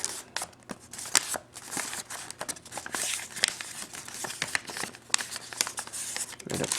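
Paper folded and creased by hand while making a paper helicopter, a steady run of close, quiet crinkles and sharp crease snaps scattered across the whole stretch, with no talk over it.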